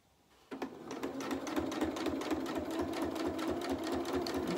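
Sewing machine top stitching a shirt yoke at low speed, starting abruptly after a brief quiet moment, then running as a steady close rhythmic needle chatter.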